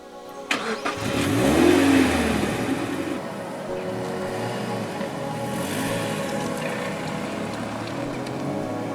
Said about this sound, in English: So we're behind the wheel of a 2010 Mazda MX5.